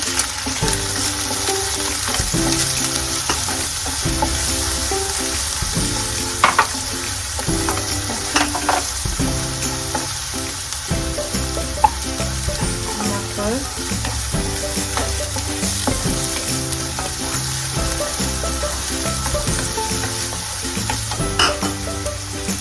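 Ginger, carrot and cabbage sizzle loudly in a hot pan for a Sikkimese veg falay, a dense steady frying hiss broken by repeated scraping strokes of a spoon stirring the vegetables.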